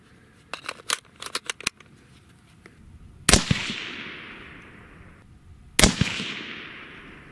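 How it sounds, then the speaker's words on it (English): A few light clicks and taps, then two sharp, loud AR-15 rifle shots in .223/5.56 a couple of seconds apart, each with a long echoing tail fading outdoors. "this next shot might be a little funky"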